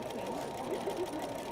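A sewing machine running steadily in free-motion stitching while the fabric is moved by hand to draw with thread, a continuous close, moderately quiet whirring hum throughout.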